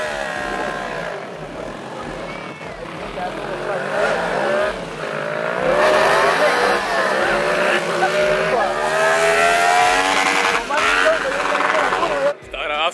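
Kart cross racing karts with tubular frames, rear-wheel drive and motorcycle engines revving to 13,000 rpm, several loud high-pitched engines screaming and shifting as they race past, continuous and near, with crowd noise behind.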